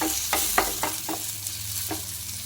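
Onion and dried coconut sautéing in a pan for a Gudi Padwa meal, a steady close sizzle broken by a series of sharp spatula scrapes and stirs, with no talking.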